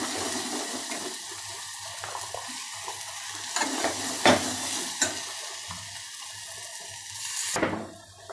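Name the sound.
drumstick pods added to sizzling masala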